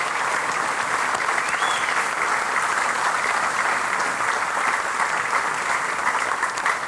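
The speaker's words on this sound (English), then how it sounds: "I'd like for all y'all to stand again and give all of you guys a round of applause." Audience applause at a sports association fish fry, a dense, loud and continuous round of clapping from a large crowd indoors, holding steady without talk.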